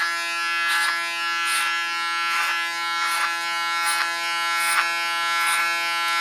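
Electric hair clippers buzz steadily and loudly at close range in a hair salon while shaving short hair, the hum swelling in regular passes about once a second as the clipper moves through the hair.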